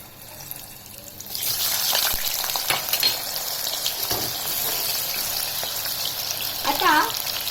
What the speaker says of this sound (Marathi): आता मी ते तेलात टाकते।